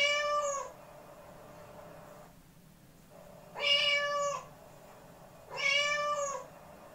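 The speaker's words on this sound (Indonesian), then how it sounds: "Baik, itulah tadi ya suara kucing." A domestic cat meows three times, each a clear, harmonic call of under a second separated by quiet pauses, fairly close and heard alone.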